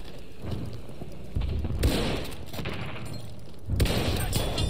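Gunfire booms during a video game sniping match, a few heavy shots and bursts with rumbling echoes over continuous battlefield noise, fairly loud.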